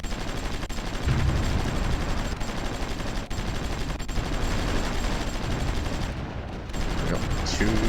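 Artillery and gunfire from the strategy game Supreme Ruler Ultimate, a steady rattle of distant shots and booms over continuous battle noise, with no speech.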